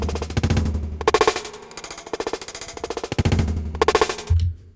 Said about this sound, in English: different start points to get that time stretch sound.